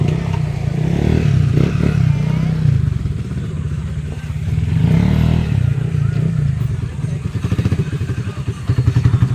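Motorcycles and other vehicles at a riverside parking area near Wawa Dam in Montalban, Rizal: a steady engine drone and rumble with some clattering and revving, and a voice is faintly heard underneath.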